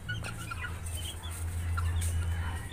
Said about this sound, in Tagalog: ito yung ating brood cock, mga kamanok.